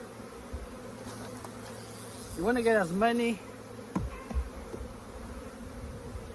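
Honeybees buzz as a steady, fairly faint hum while a hive is being split, with someone speaking briefly over it and a couple of short knocks close by.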